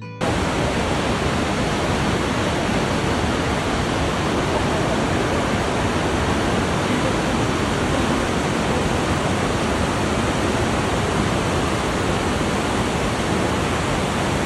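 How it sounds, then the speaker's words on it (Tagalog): A waterfall in Japan pours with a loud, unbroken rushing roar that stays constant throughout, heard up close with no voices. "Ito naman the other side or yung side nung ating falls."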